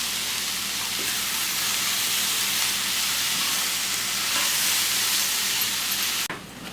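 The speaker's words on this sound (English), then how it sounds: "Couple more minutes and then I'll mix this into the chili with the beef and the beans" Turkey sausages for chili sizzle steadily in a hot pan, a dense close hiss with faint crackles that runs without a break until a brief clatter near the end.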